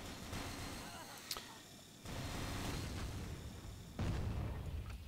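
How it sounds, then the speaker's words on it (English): Howitzer artillery in Rise of the Reds firing a few heavy booming shots spaced over several seconds, distant and rumbling amid battle noise. "And more howitzer action."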